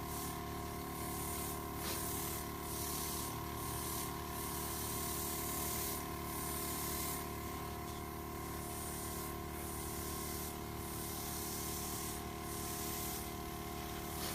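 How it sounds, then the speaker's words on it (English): An airbrush spraying color onto a cake, a quiet continuous hiss with faint pulsing bursts, steady and unbroken throughout. "an airbrush makes super easy work of this"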